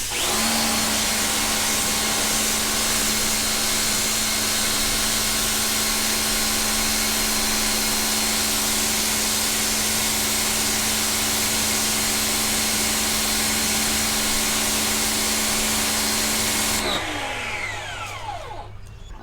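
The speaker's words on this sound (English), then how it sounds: "Again, this is that 25-degree nozzle." A Tooluck 3,000 psi electric pressure washer sprays through a 25-degree nozzle, giving a loud steady hissing roar over a constant motor whine that holds for about seventeen seconds before the motor cuts out and winds down.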